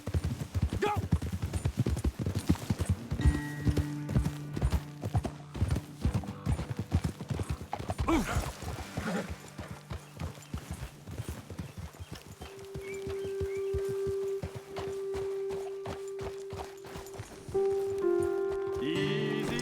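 Horse hooves clip-clop steadily through much of the scene in Red Dead Redemption 2, a rhythmic near trot with riders talking over it, a brief whinny and faint rain-like ambience amid game music.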